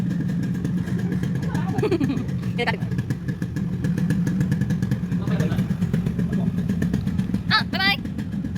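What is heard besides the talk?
motorcycle riding past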